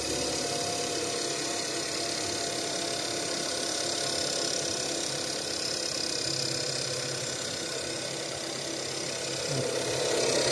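A Ford Edge SEL engine idles with the hood raised, a faint, even, smooth hum holding steady throughout with no revving.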